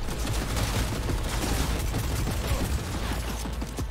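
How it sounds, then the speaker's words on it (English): Hip-fire gunfire in the video game Cyberpunk 2077 rattles on without a break, a loud, steady barrage of rapid shots over a low, rumbling bed of game sound. "I think it's better to shoot hip fire than it is aiming down your sights."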